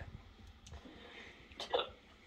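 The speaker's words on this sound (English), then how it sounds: "So I have hiccups, guys." A person hiccups once, sharp and fairly close, inside a quiet flat, preceded by a few faint clicks and soft breathing noises.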